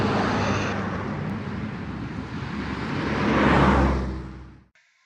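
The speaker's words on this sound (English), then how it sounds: "The sounds of cars buzzing by, people hurrying past, and the wind blowing in between huge skyscrapers." Traffic on a busy city street among skyscrapers: a broad, steady rush of passing vehicles with wind noise, swelling as one draws close and then cutting off abruptly.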